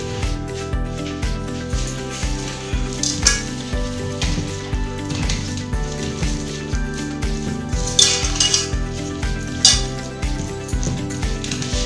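Metal cookware clatters and clinks repeatedly as a small pot is swapped for another while cooking chicken tawa piece, over a steady background sizzle with music playing throughout.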